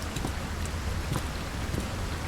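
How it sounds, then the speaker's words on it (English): Steady, dense rainfall from Layers of Fear fills the space with a constant hiss, with a few slightly louder drops and patters standing out against it. "Ah, rain."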